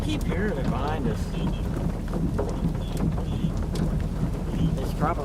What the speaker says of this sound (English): It's probably wind and hail.